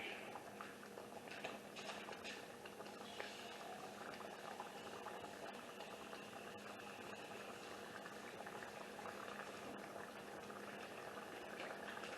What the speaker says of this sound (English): Now it's coming to a little bit of a boil. We want that. We want it to be bubbly.